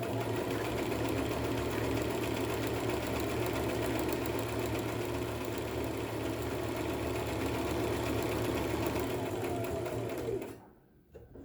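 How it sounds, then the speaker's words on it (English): A domestic sewing machine runs steadily while overlocking the raw edges of pyjama fabric pieces, a close, continuous mechanical whir with a fast stitching rhythm that lasts about ten seconds before cutting out. "I'll be overlocking the edges on every one of my pieces."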